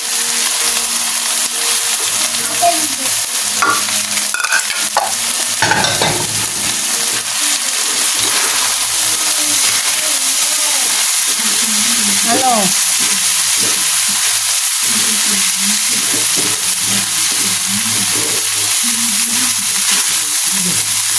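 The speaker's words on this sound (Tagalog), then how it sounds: "luto na po ang ating ginisang giniling" Ground meat sautéed in a pan with Spam, carrots and potatoes sizzles loudly and steadily throughout, with stirring scrapes and faint talk in the middle.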